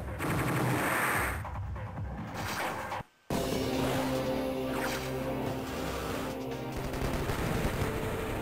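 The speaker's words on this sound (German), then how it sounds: "Die schießen mir jedenfalls erstmal meinen Kreuzer ab." Rapid bursts of video game gunfire from Advance Wars Dual Strike shoot down a cruiser, a loud crackling fusillade that breaks off in a brief silence and then resumes with rumbling blasts.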